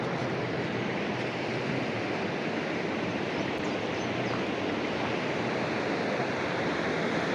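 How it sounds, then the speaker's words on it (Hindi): A river rushes beside the mountain track in Pakistan's Shimshal Valley, Hunza, as a steady, loud, unbroken roar of water with no other sounds. "वहाँ पर आवाज़ पानी की ज़्यादा है"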